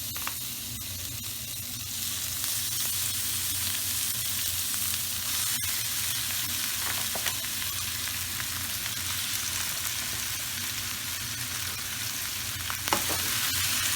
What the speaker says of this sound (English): into a pan on a medium to high heat, I'm going to add 1 kilo of beef mince